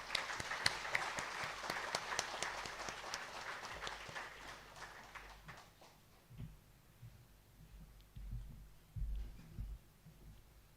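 An audience applauds to welcome guests at a memorial lecture, a dense wash of hand clapping that is steady at first, then thins and fades out over several seconds while low thumps and rustles rise in the hall.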